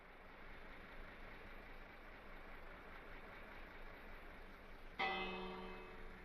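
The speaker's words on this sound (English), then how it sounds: "I love the fact that it makes bell noises." A single bright train bell chime in Minecraft rings out at the end, its tone lingering over a steady low hum of background noise.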